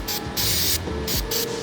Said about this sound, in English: Spray gun cleaner.